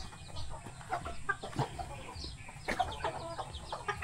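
Pet native chickens feeding at a backyard coop cluck and murmur in quick, uneven bursts, close by and fairly soft, with several birds calling over one another.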